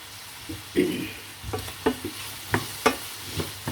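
Food sautéed dry in a pan without water, a soft steady sizzle broken by several distinct utensil knocks and scrapes at uneven intervals, close and moderately quiet.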